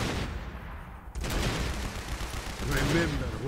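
Units in Command & Conquer: Generals, Rise of the Reds, force-fire on city buildings, producing a steady barrage of rapid shots. A brief lull comes around the first second, and a voice may sit faintly under the din.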